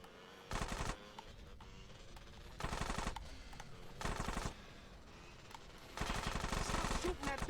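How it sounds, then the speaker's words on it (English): Bursts of automatic gunfire from GTA San Andreas Definitive Edition, fired during a car chase, come in four loud rapid volleys over steady engine and game noise. "Shooting that thing right next to my ear"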